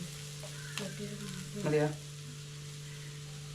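Masala with turmeric frying in a pan while it is stirred, giving a soft sizzle with a brief scraping burst partway through; a voice speaks briefly over a steady low hum.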